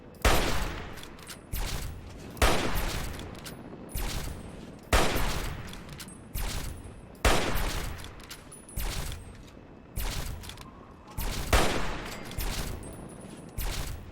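Rifle shots in Fallout 3 ring out one at a time at a slow, steady pace, each crack sharp and loud with a short decay and quiet gaps between.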